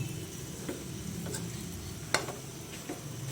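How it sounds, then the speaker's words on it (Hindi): Camel meat frying in oil crackles and sizzles quietly, with a few sharp scraping ticks from stirring scattered across the short stretch. "बस 15-20 मिनट और लगेंगे इसे भूनने में।"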